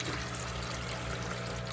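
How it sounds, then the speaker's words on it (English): Water drawn from a fish tank pours in a steady, continuous stream, a close and even liquid rush with no pauses and no voices. "Get some water out of the fish tank."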